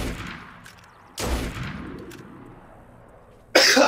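Sniper fire in the video game Assassin's Creed Unity: two sharp, loud single shots a couple of seconds apart, the first followed by a fading rumble and the second cut off abruptly.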